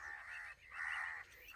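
Birds caw in agitation near a hunting dog, giving two drawn-out, harsh calls one after the other, faint and somewhat distant.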